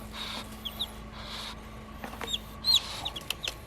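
Newly hatched chicks peep in short, high chirps while chickens cluck softly nearby, scattered irregular calls over a faint steady hum, with no voices.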